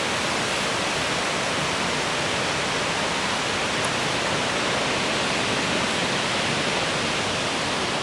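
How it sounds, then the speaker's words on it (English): Niagara Falls seen from the top, a steady, dense roar of rushing water that stays loud and unbroken throughout, with no voices. "This is the top of the Niagara Falls"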